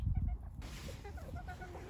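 Hens in a chicken coop give a few soft, low clucks, close by and faint, spaced irregularly over a quiet background.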